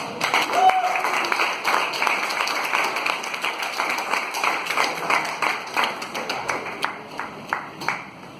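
Audience applause at a Toastmasters meeting for a best table topics speaker award winner, starting as dense clapping and thinning to scattered, distinct claps and taps that fade toward the end.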